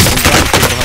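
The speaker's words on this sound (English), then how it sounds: "I'm taking fire!" Close, loud automatic gunfire fills a short moment of the video game Modern Warfare, a dense burst of rapid shots with no talk.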